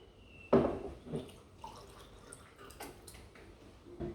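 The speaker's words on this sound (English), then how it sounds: "So then top it up with water" Water poured into an essential oil diffuser with tea tree oil makes a brief, faint splash followed by a few soft drips and trickles in a quiet room.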